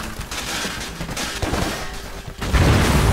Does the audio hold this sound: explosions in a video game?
yes